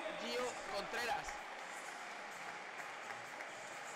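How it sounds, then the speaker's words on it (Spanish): Applause and crowd noise fill a basketball arena during a Liga EBA game, a brief burst of clapping near the start settling into a steady murmur of spectators. "Aplausos para Cava, buenos minutos."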